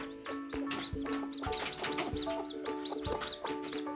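Hen with at least four chicks on a farm, clucking close by in short repeated bursts while high, thin chick peeps chirp continuously over them.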